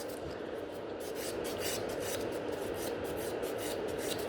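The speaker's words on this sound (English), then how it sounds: "I'm taking the buffer, and it's 100 by 180 buffer, and I'm smoothing out around the cuticle area." A 100/180 grit nail buffer rubbing around the cuticle area of a nail, a soft, continuous scratchy rasp heard close up and quiet, with no talking.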